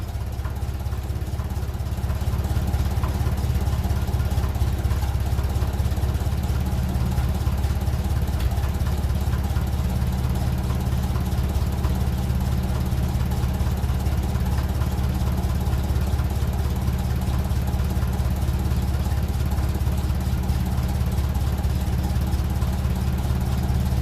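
The engine of a 1957 Ferguson 35 TVO tractor, running rich and labouring a little, idles in a continuous low, steady drone, close by and unbroken, with no voices over it.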